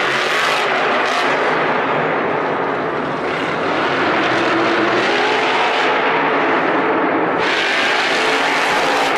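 The Monster Jam truck El Toro Loco takes a solo bye-run on the racing track inside AT&T Stadium in Arlington, its engine a loud, continuous roar that surges and holds without a break.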